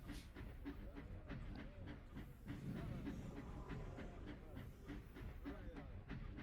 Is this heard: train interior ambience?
yes